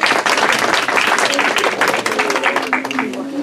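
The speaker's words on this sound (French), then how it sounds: "Je crois qu'on peut l'applaudir." Loud, continuous audience applause fills a ceremony in Grand-Fresnoy, dense clapping from a crowd with some voices mixed in throughout.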